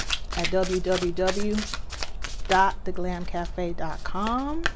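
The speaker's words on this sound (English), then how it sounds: "And I'm just trying to get a good shuffle here." Tarot cards being shuffled by hand, a soft continuous riffling that runs beneath someone talking steadily throughout.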